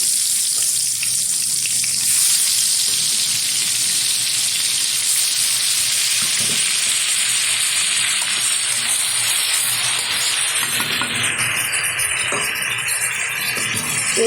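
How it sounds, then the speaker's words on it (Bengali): Pieces of sea fish frying in hot oil with turmeric, a dense continuous crackling sizzle that stays loud and steady throughout, with no talk. "এখন আস্তে আস্তে করে মাছগুলো আমি ছেড়ে ভেজে নেব ভালো করে।"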